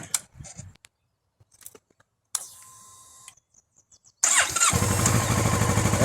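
A motorcycle, powered up after winter storage, clicks and whirs on the starter before the engine catches, then settles into a loud, steady idle running to the end.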